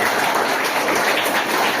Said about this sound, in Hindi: इनके लिए जोरदार तालियां हो जाएगा